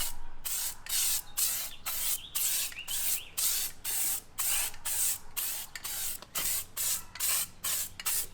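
Paint or coating sprayed in a tiny house van build, coming out in quick repeated hissing bursts, around sixteen short sprays with brief gaps, close and fairly loud, with no talking.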